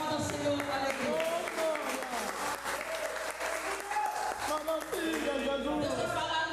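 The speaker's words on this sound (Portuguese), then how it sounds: "Aplauda o Senhor com alegria." Worshippers in a church applaud, steady clapping that runs throughout beneath music with sustained tones and voices over it.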